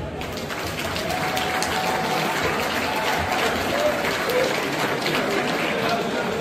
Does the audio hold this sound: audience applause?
yes